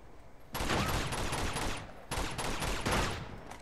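Gunfire rings out in the Uncharted 2: Among Thieves video game as an enemy with a shotgun fires, loud blasts and rattling bursts in two dense volleys with a short gap between them.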